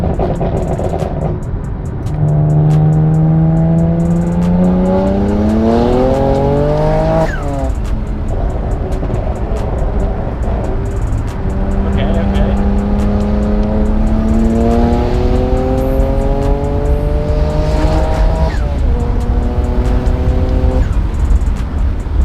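Tuned BMW 335i pulling hard through several gears, the loud close engine rising in pitch, briefly dropping at each shift, then climbing again, with a hint of tire squeal and occasional voices.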